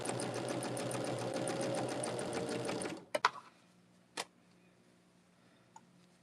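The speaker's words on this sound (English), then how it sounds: "Just make sure that they're feeding through your machine correctly." A sewing machine stitches quilt block pieces in a fast, steady rhythmic whir for about three seconds, then stops, followed by a few sharp clicks and taps and near silence.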